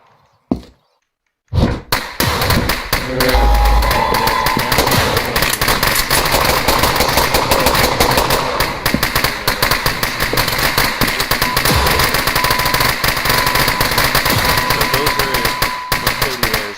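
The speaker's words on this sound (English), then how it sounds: "Those are soldiers with SMGs." Soldiers firing SMGs in a video game, with loud, continuous bursts of automatic gunfire and impacts going on for about fifteen seconds after a brief quiet start, dense and unbroken.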